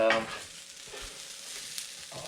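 Food being stirred with a spatula as it fries in a pan during home cooking of traditional local food in Japan, giving a steady close sizzle with light scraping and clatter, a brief louder burst at the start.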